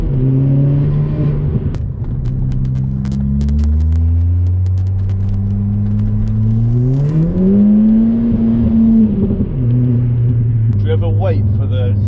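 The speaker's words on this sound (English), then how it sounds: "let's get a POV drive in the ST" A Ford Fiesta ST drives along a country road, its engine note climbing and falling as it accelerates through the gears, with a close, steady hum and occasional small clicks.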